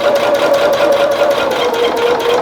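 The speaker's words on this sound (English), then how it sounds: "We're almost at the end of sewing our first 2 rows together." A sewing machine stitches two rows of a rag quilt together, making a loud, continuous close-up hum with a fast, even mechanical chatter throughout and no voices.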